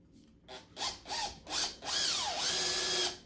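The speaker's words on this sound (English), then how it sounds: "When I drill these, I drill a little pilot hole first just to get that thing started." An 18-volt cordless drill bores a small pilot hole, running in several short whirring bursts before a longer run whose motor pitch dips and climbs again, close and fairly loud.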